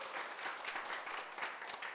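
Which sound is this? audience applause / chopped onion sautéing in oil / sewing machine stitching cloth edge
audience applause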